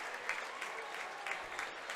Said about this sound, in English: Meadowbrook faithful standing up and applauding their team's effort